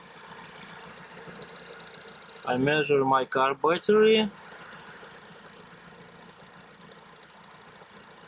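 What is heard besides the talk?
van engine idling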